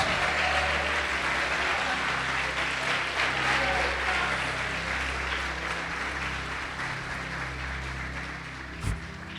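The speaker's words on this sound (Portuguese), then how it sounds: "Pode aplaudir e glorificar Jesus." A church congregation applauds steadily for several seconds, a dense sustained clapping over a low hum of organ or keyboard tones, ending with one sharp thump near the close.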